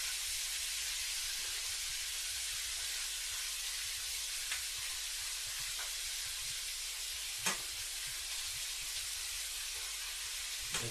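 Cabbage noodles cooking down in butter in a pan give a steady, close frying sizzle and hiss that runs unbroken throughout, with a few faint clinks.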